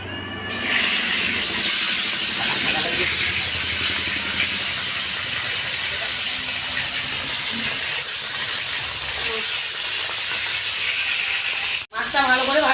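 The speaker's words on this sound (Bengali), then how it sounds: "মাছটা ভালো করে ভাজা হয়ে গেছে" Fish frying in a hot kadai during home cooking, a loud steady sizzle and hiss that runs unbroken through the whole stretch before a brief dip near the very end.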